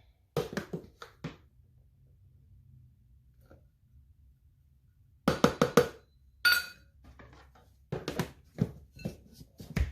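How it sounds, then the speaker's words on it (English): A spoon works flour into dough for cinnamon rolls in a home kitchen, giving short clustered taps and scrapes in two bursts separated by a quiet pause, close and moderately soft. "Add a half a cup of flour, and with a spoon"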